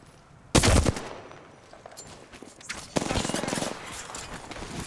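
Gunfire in the video game Apex Legends: a sharp, loud close burst of shots near the start, then quieter scattered reports, followed by a longer rapid automatic volley toward the end.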